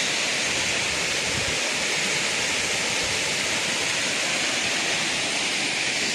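Thusharagiri waterfall in Wayanad, Kerala roars in a steady, dense wash of falling water, loud and continuous with no voices over it.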